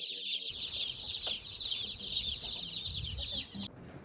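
A chorus of high, rapid peeping from many turkey chicks drinking water fills the scene continuously, close and busy, with soft scuffling beneath, then stops abruptly near the end.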